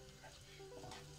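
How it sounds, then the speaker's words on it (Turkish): Finely chopped peppers frying in melted butter in a pan, a soft, continuous sizzle heard close up and fairly quiet. "Tereyağı erirken ince ince doğradığımız biberleri atıyoruz"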